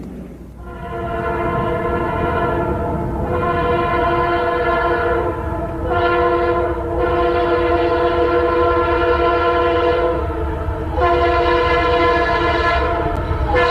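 A fast train sounds a long multi-tone horn in repeated blasts, loud and close, with steady rolling rumble beneath and short gaps between the chords.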